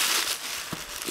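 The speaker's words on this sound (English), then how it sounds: "here we have the laptop itself inside this plastic bag. Open it up." A plastic bag wrapped around a Dell Inspiron 1545 laptop is opened during an unboxing, producing a short burst of close, dense crinkling and rustling.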